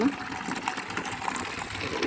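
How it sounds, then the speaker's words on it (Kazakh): Warm water runs from an indoor tap at home, filling a bucket to take to the chickens, a steady gushing flow with a hiss, fairly close and continuous throughout. "үйден жылы су ағат осылай."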